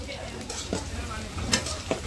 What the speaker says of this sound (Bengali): আর আলুটা ভালো করে ভেজে নেবে